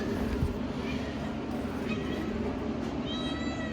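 A cat meows several times close by over a constant low rumble of a vehicle engine, with a voice talking at points.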